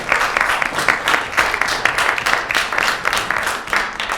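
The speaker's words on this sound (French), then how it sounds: "Vous pouvez les applaudir encore" Conference audience at the Tokyo Game Show applauding French dubbing actors on stage, a steady dense wash of clapping from a large crowd lasting throughout, fairly loud and close.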